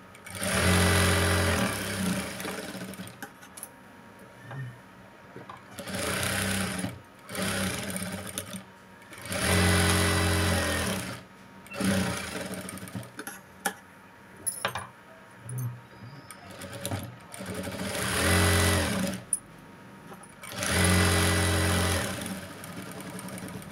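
Sewing machine stitching the edge of a lined blouse: repeated bursts of rapid mechanical whirring and needle clatter, each a couple of seconds long, separated by quiet pauses and small handling clicks.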